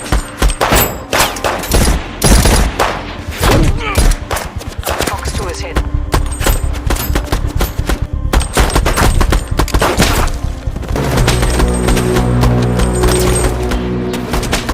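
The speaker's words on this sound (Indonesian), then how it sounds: "pasukan ini pun terlibat baku tembak dengan para polisi Berlin" Gunfire in a film shootout with Berlin police: dense, loud bursts of rapid shots and impacts over a continuous mix of music and effects, with sustained tones building toward the end.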